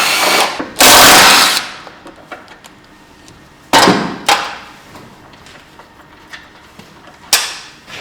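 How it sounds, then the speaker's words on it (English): A power drill bores new holes into the shock tower of a Falcon coupe during suspension removal: one loud sustained whine, then several shorter sharp bursts and thuds in a garage, with no voices. "Just about always you have to drill new holes."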